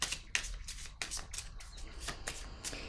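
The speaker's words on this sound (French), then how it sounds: "Je vais déposer une carte sur elle" Tarot cards are handled and set down on a table in a rapid series of soft slaps and papery flicks, close and fairly quiet, with a light background hum.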